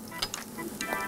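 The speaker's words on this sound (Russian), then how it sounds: "У нас там все жарится." Food sizzles and fries in a pan in a morning show kitchen, a soft steady crackle with a few small pops and stirring clicks, no talk.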